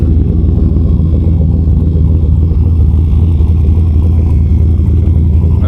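A car engine idling loud and close through a custom hand TIG-welded 4-inch exhaust running all the way back and exiting in the factory location, a steady deep low rumble with no talk.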